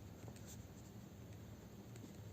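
Chalk scratches across a board in short, quick strokes during an accounting lesson, faint tapping and scraping over a constant room hiss.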